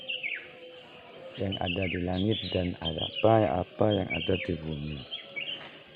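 Morning birdsong chirps in the background, high, faint and continuous, while someone speaks at length in the foreground over it.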